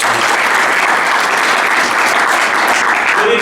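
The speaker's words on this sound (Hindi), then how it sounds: "ताली बजनी चाहिए।" Audience applause at a Tiranga Yatra tribute event for CDS Bipin Rawat and other martyrs, steady and loud clapping from a large crowd filling the whole stretch.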